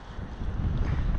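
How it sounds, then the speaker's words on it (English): Strong wind on a beach buffeting the microphone, a loud, steady low roar and rumble filling the whole moment with no other sound standing out. "Wind's changed again. Can you believe this wind?"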